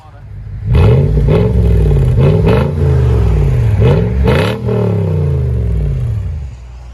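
A Lexus GX 470 with a 4.7L V8 and its muffler cut off revs repeatedly, several loud rising and falling blips from a steady idle, close by, with no talk over it.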